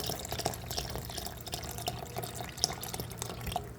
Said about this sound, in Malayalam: നമ്മൾ പാൽ ഒഴിച്ച് കഴിഞ്ഞു.